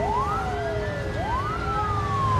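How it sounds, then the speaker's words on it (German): Ambulance sirens wail in a traffic jam in the video game SimCity, rising and falling sweeps continuing steadily over a dense rumble of city traffic. "Die Krankenwagen stehen bei mir Schlange in dem Stau."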